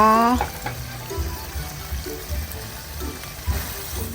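Boiled cassia leaves, cooked with tamarind, tipped into a pot of Thai curry, giving a brief wet plop and splash followed by soft liquid sloshing and low background noise.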